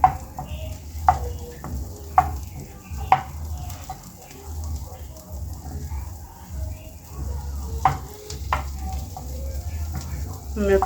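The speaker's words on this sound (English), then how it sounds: "in the same pan, I'll go in with some butter." Butter melts in the same pan just used for honey garlic chicken popcorn, sizzling steadily with a low frying hiss and scattered sharp clicks and pops throughout.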